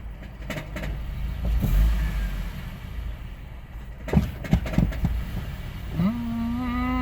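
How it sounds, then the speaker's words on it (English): A used Honda CR-V with an ABS warning light on, its engine idling roughly and sagging under throttle as it nearly dies and stalls, heard close with uneven surges and knocks. "if you peg the gas pedal a little bit, the car almost stalls and the ABS light came on too"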